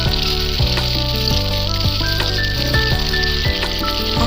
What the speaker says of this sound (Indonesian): Langsung aja kita goreng.